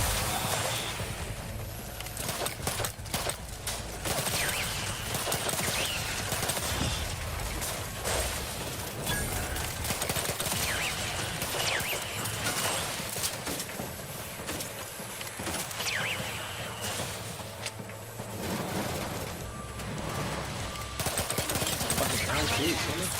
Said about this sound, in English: Can't tell what I'm shooting at